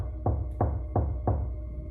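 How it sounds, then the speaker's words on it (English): A fist raps on a wooden door four times at an even, deliberate pace, each knock heavy and close, over a low steady background hum. "I pulled back my hand and let my fist rap onto the door."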